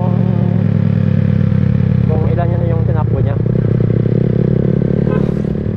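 Yamaha Sniper 150 and Rusi 125 motorcycles ride together with a steady, loud engine drone and wind rush throughout, with clattering bumps midway and people talking over the noise.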